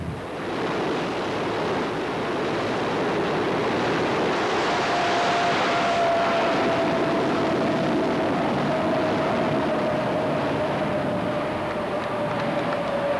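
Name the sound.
jet-powered drag racing truck engine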